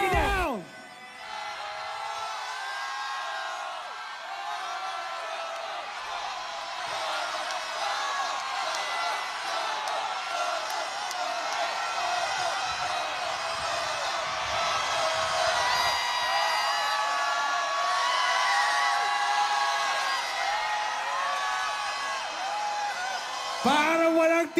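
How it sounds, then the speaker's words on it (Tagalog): A political rally crowd in Pasay shouts and cheers without letup, a dense, steady roar of many voices that swells slightly toward the end, with sharp bursts at the start and finish. "Parang walang tigil ang sigawan dito sa Pasay"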